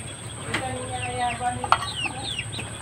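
Gamecock roosters cluck and chirp at a breeder's farm in Bohol, a string of close, rising and falling calls with a couple of sharp knocks, over a steady background hum.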